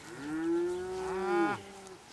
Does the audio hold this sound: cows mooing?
yes